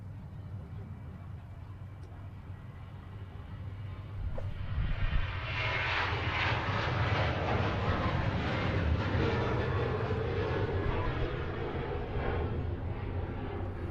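Ryanair airliner at Manchester Airport, a distant engine roar that swells after a few seconds into a steady, broad rumble and whine as the plane passes, with people talking.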